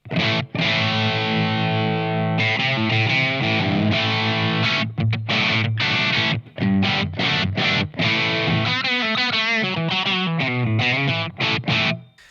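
Electric guitar played through an amp set for a chimey Vox-style top boost tone, loud and driven with sustained chords giving way to choppy strummed stabs and a wobbling modulated passage, no voices.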